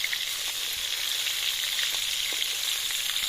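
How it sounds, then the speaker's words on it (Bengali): Fish frying in hot oil, a steady loud sizzle and crackle with small pops throughout, heard up close with no voices. "আর মাছটা কিন্তু আমি খুব বেশি একটা কড়া করে ভাজবো না"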